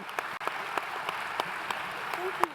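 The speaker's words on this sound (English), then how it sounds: "Everybody, one more round of applause." A small audience at a civic and industrial hackathon gives the winners a brief round of applause. The claps come as distinct, moderately close hand strikes over a soft background of crowd noise.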